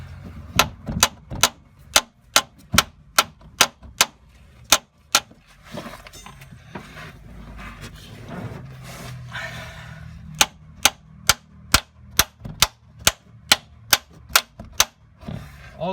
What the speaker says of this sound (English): I should have said it's a brass hammer.